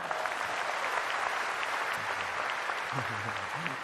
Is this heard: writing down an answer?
no